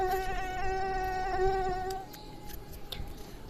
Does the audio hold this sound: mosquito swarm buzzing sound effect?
yes